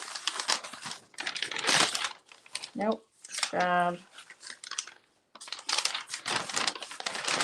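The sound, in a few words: crinkling roll-off paper being adjusted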